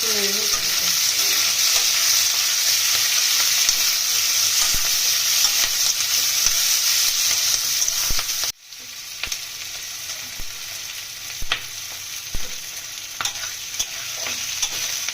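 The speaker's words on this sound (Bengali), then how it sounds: "পেঁয়াজ ফুল ফ্লেমে রান্না করবো" Onions frying in a pan over a full flame, a loud, dense, continuous sizzle close up that drops off abruptly partway through, then resumes more quietly with occasional stirring clicks.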